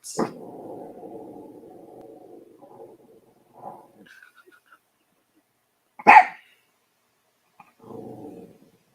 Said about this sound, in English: I don't know if he's barking at Ron.